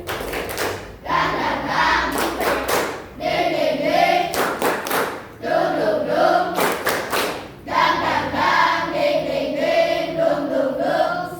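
Schoolchildren perform a rhythmic spirit clap in unison at an elementary school event, loud patterned bursts of claps alternating with chanted voices, repeated in several cycles.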